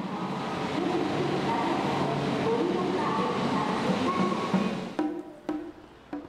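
A double-decker Max Yamabiko Shinkansen leaving Ueno, heard as a steady, moderately loud rumbling hum of the moving bullet train, then a few sharp clicks and knocks as the sound thins near the end.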